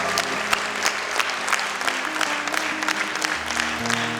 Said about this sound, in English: I would like to hear a round of applause for all.